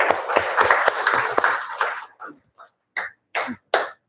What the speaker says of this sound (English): everyone give a big round of applause for Dr.